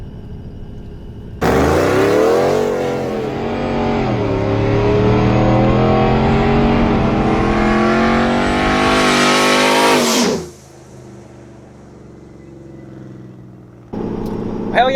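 A TorqStorm-supercharged 4th-gen RAM truck engine winds up in a long, loud pull, rising steadily for about eight seconds before cutting off abruptly, followed by a quieter idle and another burst starting near the end.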